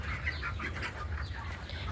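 Chickens on a poultry farm on a hot summer day, clucking and calling in a steady, busy chorus close by, with a constant low mechanical hum underneath.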